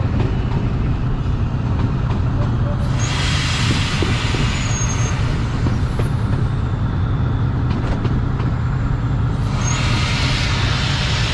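The Sir Syed Express train approaches Hafizabad railway station in the evening: a steady loud low rumble of rolling cars with brief high air-brake squeals, no talk.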